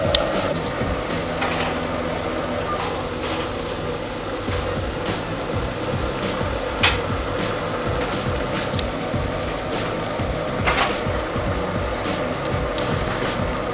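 Sugar syrup for toffee apples boils in a pot with a steady, dense bubbling hiss and occasional pops, close and continuous throughout.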